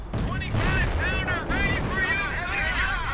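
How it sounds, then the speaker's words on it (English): Artillery shells bursting near a victory point in a World War II strategy game, a quick run of booming impacts over about three seconds with a voice talking throughout. "artillery going down here around the victory point"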